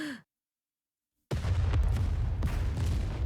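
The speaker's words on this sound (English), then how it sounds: "With a loud explosion, part of the debris blocking the path collapses." In the Nikke video game, an explosion collapses debris blocking a path: a brief breath, near silence, then a sudden deep boom that rolls into sustained low rumbling with scattered crackles.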